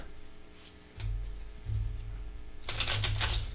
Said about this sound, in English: Just shuffling.